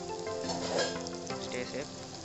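Mutton sizzles steadily in a hot pan with dried fenugreek leaves added, a dense close frying crackle that runs continuously, with faint stirring and a voice talking softly underneath.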